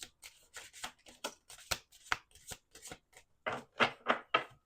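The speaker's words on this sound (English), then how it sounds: "let's pull a few shadow work cards and then a few Myths and Monsters" Shadow work oracle cards pulled from a deck, with a quick run of soft papery slides and flicks, faint and close, followed by a few sharper card snaps near the end.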